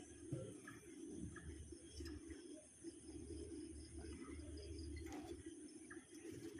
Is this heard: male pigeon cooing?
yes